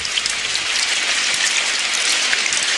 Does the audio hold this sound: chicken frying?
no